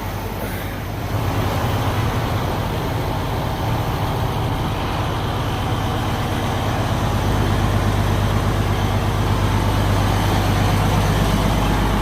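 A tractor engine with a DEF exhaust system runs steadily nearby, a loud continuous rumble that grows slightly stronger partway through, with no talking.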